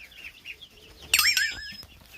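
Chickens in a brooder coop, split in two with chicken wire and being treated for coccidiosis: soft chirps, then a loud, close burst of clucking and squawking that trails off into quieter calls.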